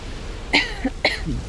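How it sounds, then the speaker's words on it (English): Two quick, close coughs in succession, sharp and brief, with a short gap between them. "I have to cough."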